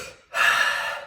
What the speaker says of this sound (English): I want you to think of the inhale as a gasp, a gasping breath in, a quick, powerful inhale